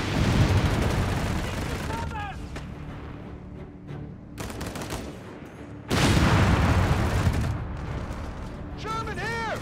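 Anti-tank gun blasts and heavy machine gun fire in the Italian campaign of Company of Heroes 3, coming as two loud sustained bursts of heavy gunfire separated by a quieter gap, with brief shouted voices and whistling tones in between.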